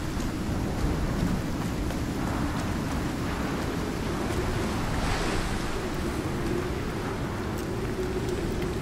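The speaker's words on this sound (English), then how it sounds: "Why is it raining inside of the cave?" Steady, dense rain and storm wind roar inside a cave in the survival game Icarus, a continuous broadband wash of noise that stays loud and even throughout, with no voices.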